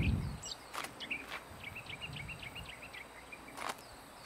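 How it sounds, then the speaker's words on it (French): Robins singing in the video game Botany Manor, a run of quick, thin chirping phrases in a quiet outdoor scene, faint and steady, with a few soft clicks and knocks around them. "Maintenant il y a plein de rouge-gorge, c'est trop beau."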